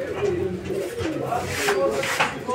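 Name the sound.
pigeons cooing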